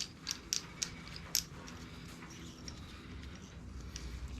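A ratchet clicks a few times near the start while a bolt is tightened on the crankshaft snout of a 1993 Ford Fox body engine, with short bursts followed by quiet workshop hum.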